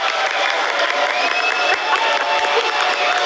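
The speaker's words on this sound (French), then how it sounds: "Applaudissements s'il vous plaît." A television studio audience applauds and cheers in a continuous, loud swell of clapping and crowd noise, dense and steady, with voices blended in.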